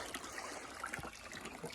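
Water trickles and splashes steadily down a gold prospecting sluice, a continuous close-up liquid rush with small gurgles and no voices.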